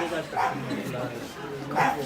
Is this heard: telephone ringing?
no